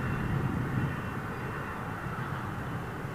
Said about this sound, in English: Beautiful bank turn from that Dreamliner.